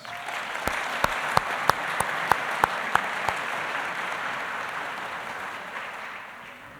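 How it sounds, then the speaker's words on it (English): An audience at a 2019 learning center graduation ceremony applauds the staff in a full, steady wash of clapping, with a series of sharper individual claps standing out near the start before the sound tapers slightly. "Please join me in giving them a round of applause"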